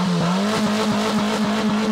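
A Peugeot 206 car engine accelerates hard and loudly, its steady high rev tone holding with a rough, rally-style edge and regular pulsing, close to the listener with no talk.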